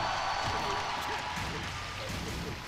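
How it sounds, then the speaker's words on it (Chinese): Broad, steady applause from the live crowd at the IESF 2018 Tekken 7 grand final, a continuous roar of clapping and cheering that fades slightly toward the end. "现场观众来一点热烈的掌声"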